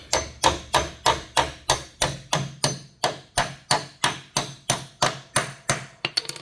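A hammer taps an anchor bolt down into a drilled hole in a workshop, giving about sixteen sharp, evenly spaced close strikes, then a quicker flurry of lighter taps at the end.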